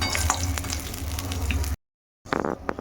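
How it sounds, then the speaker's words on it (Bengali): Fish heads frying crisp in hot oil give a dense, close crackling sizzle with sharp pops, cutting to silence before a softer burst of stirring and spatter resumes. "মাছের মাথাগুলো বেশ ভালো করে দেখো মচমচে করে ভেজে নিয়েছি।"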